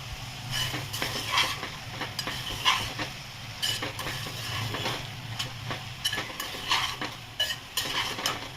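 Moth beans being sautéed in a frying pan, with a steady sizzle under repeated scraping and stirring strokes of a spatula against the pan, close and fairly loud, with no talking.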